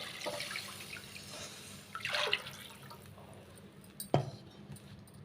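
Water poured into a pot of rice while making aravana payasam, a soft splashing pour building in the middle with a sharp clink of metal near the end, quiet and close, with no voices.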